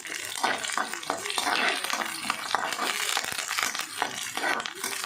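Chicken pieces being stirred in oil in a pan while making a Telugu-style chicken curry with onions, giving a steady close crinkly sizzle and scraping texture throughout.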